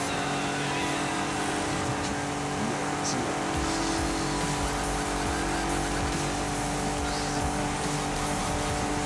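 A green Lamborghini Gallardo drives in Forza Horizon 5, its engine a steady, continuous drone with faint tyre noise, heard alone at moderate level throughout.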